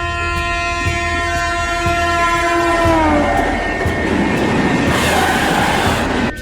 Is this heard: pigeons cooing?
no